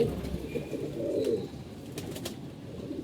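A male pigeon gives a few low, soft coos close by in a quiet setting, with faint background noise and no talking.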